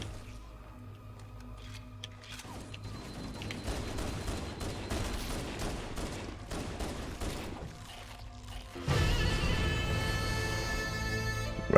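Halo CE gameplay in the Library level, with shotgun blasts and gunfire going off repeatedly over a dense, continuous din of combat that grows louder and more chaotic toward the end, with no talking.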